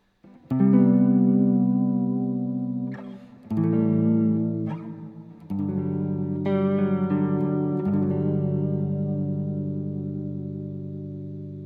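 Mellow synth tones from a Lost & Found synth pedal with filter, reverb and vibrato, a filtered, rounded character, swelling in three sustained phrases with gentle vibrato and a reverberant tail, no voices.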